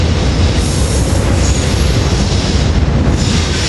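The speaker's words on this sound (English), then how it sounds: "we got the Bryn Mawr train, which is late, getting ready to take off. Now it's on the move" Late-running Bryn Mawr commuter train pulling out of a busy rush-hour station, loud and close, with a steady rumble of rolling wheels and faint wheel squeal throughout, no voices.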